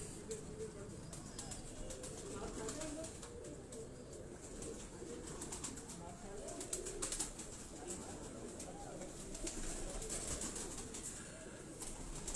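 Flying pigeons coo on a rooftop in Johar Town, Lahore, soft repeated calls over steady outdoor background noise with occasional bursts of activity.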